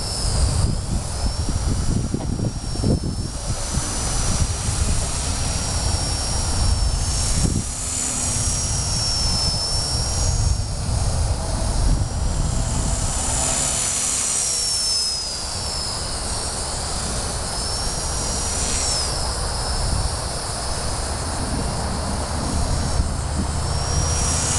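A small RC helicopter with a rebuilt TA 215 motor, showing slight drag, whines steadily with rotor whir and shifting high-pitched motor tones, running close and alone for the whole stretch.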